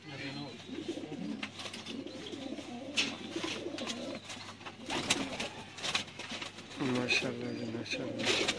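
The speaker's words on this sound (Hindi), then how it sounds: "है फ्रांसी वड्डा कबूतर है" A large French pigeon coos nearby in repeated throaty rolling calls that come and go, with someone talking intermittently and a steady low hum underneath.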